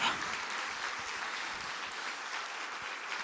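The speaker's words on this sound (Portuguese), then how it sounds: "aplaude o nome de Jesus" A church congregation applauding during a worship service, a steady wash of many hands clapping together, even in level and continuing throughout without speech.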